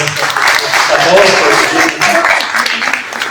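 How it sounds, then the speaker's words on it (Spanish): An audience at a talk applauds with steady, dense clapping, loud and close, with voices mixed in throughout. "Un aplauso."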